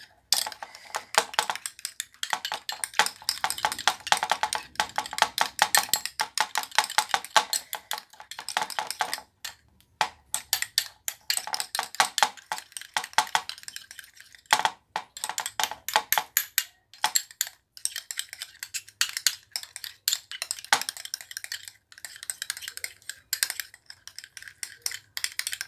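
A spoon scraping and clinking against a bowl as toothpaste is mixed into a homemade remedy, fast irregular taps and scrapes close by, sustained with brief pauses.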